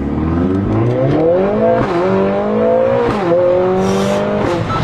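A tuned 500 hp Mercedes CLA45 S pulls away hard in first gear without launch control, its engine rising loudly in a steady climbing roar with short dips at each shift or lift, up close.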